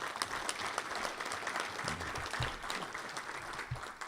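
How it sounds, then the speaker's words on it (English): Applause from members at a Rotary Club of Tucson meeting, sustained crowd clapping throughout with a few faint voices mixed in. "If I could ask you to hold your applause for a minute"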